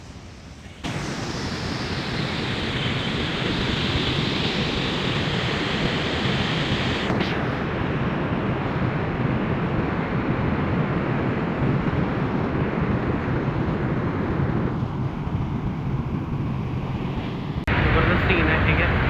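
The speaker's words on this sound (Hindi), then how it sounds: "ये पानी जो है ना पीछे से वो देखो नीचे गिर रहा है सारा" Water pours over Niagara's Horseshoe Falls in a loud, continuous broadband roar that never lets up, heard close and under a person talking.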